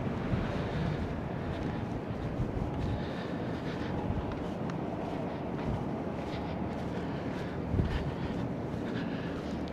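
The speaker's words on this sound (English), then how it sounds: "the wind's blowing in this direction" Strong wind roars steadily across an open cruise ship deck at sea, buffeting the microphone with a constant low rumble and faint wave wash underneath.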